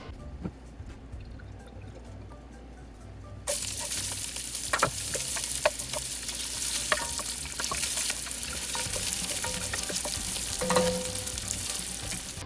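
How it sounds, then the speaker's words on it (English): Aromatics stir-frying in oil in a Dutch oven: a quiet start, then a sudden loud sizzle that keeps going, with scattered scrapes and clicks of stirring on top. "Throw that into the Dutch oven, hopefully with some oil because you don't want it to just burn, and kind of stir fry that and wait for it to get aromatic"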